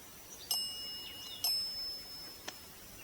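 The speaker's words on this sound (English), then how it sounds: "Can you make the bell ring again?" A bell rings on its own in a quiet room during a ghost-hunting session, struck in three faint, separate dings about a second apart, each leaving a thin lingering tone.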